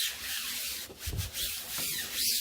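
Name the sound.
rubbing acetate positive film onto a screen-printing screen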